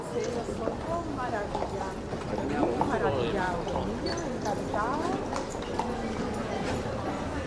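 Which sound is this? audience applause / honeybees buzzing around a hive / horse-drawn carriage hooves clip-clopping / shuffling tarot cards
horse-drawn carriage hooves clip-clopping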